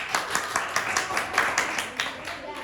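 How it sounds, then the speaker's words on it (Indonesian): Classroom applause at a teachers' Indonesian-language group session, several people clapping in a loose, uneven patter over about two and a half seconds before a presentation, moderately close with faint background murmur. "Beri tepuk tangan dulu."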